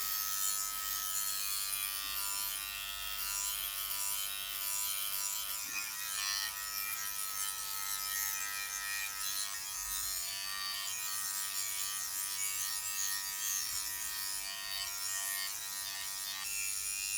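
Philips Body Groomer 3000 Series electric trimmer shaving an underarm, a continuous close high-pitched motor buzz with slight scraping variations as it moves over skin, no talking.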